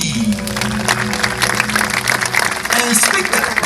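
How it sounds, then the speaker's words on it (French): Applause from an audience for the performers of a western-themed show at an OK Corral theme park, filling the clip as a dense, steady wash with music or voices running underneath. "je vous demande d'applaudir les artistes d'Hockey Choral Western Company"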